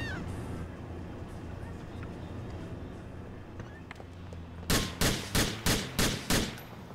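Six sharp gunshots in GTA IV ring out in a quick, even volley near the end, loud and close, after several seconds of steady game ambience and engine hum.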